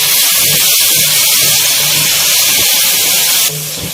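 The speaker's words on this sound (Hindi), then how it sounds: "इन सब चीज़ों को साथ में अच्छी तरह से फ्राई करना है हमें" Garlic ginger paste and spices frying in oil for chicken korma produce a loud, constant close-up hiss and sizzle that eases slightly near the end, with no talk.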